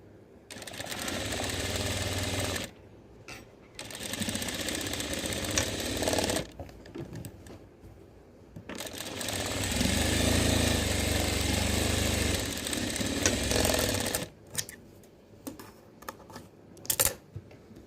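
A sewing machine stitches a frock nighty in several long, steady bursts of close mechanical whirring, separated by short pauses and quick clicks of handling, with no talk.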